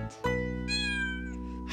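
Cats meow in a nursery-rhyme cartoon scene about a fire engine, with one short call followed by a longer drawn-out tonal meow, close and clear with no talk.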